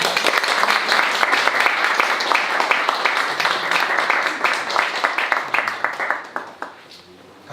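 A church lecture audience applauds to welcome a pastor forward, with dense continuous clapping that holds steady for about six seconds before thinning into a few last claps and fading.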